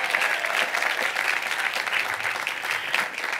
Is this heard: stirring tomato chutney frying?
no